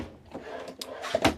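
A drawer in a 2023 Compass AWD 24KB RV kitchen slides and bumps shut, a couple of short knocks and a soft scrape, close by in a quiet interior.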